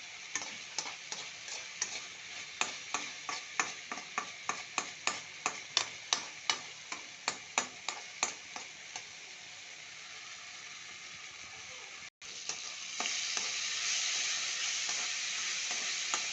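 Red and green chillies, tomatoes and white onion sizzle steadily in a pan with a regular series of stirring clicks, then the frying grows louder and continues alone.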